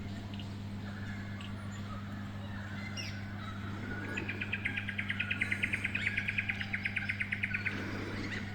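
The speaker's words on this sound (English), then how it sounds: "this salvia, it's just alive with bees and birds" Birds call around a flowering salvia bed on an Australian farm: scattered chirps, then a rapid run of repeated harsh calls mid-clip, all over a steady low hum.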